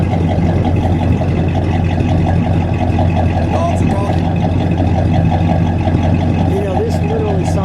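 Steady, burbling idle from a 1969 Buick Electra 225 and its 430 cubic-inch V8, a throaty low rumble like a big inboard boat engine, continuous and close, with a voice speaking over it.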